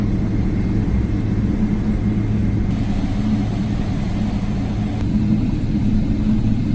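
A Kuwait Airways Boeing 777 taxiing at Heathrow, heard from the cabin as a steady low engine rumble and broadband roar with no talk.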